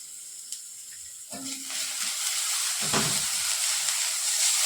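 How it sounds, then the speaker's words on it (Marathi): Chili-garlic thecha drops into hot oil with golden-fried onion. A quiet pan with a few clicks bursts into sizzling after about a second, then a close, rising crackle continues with a brief stirring scrape. "त्यानंतर आपण इथं मिरची लसणाचा ठेचा टाकतो आहे"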